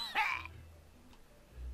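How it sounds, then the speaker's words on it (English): A single harsh cough from a character choking on a mouthful of water while brushing his teeth in the video game Manual Samuel, short and near, followed by quiet low rumbles. "He has to cough."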